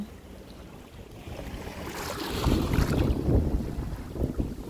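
Steady gusting wind buffets the microphone over the rush and slap of strong waves, growing louder and rougher partway through.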